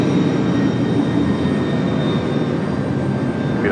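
A UPS heavy jet departing from Raleigh-Durham airport roars as a steady, broad engine rumble with a faint whine above it, continuous and fairly loud.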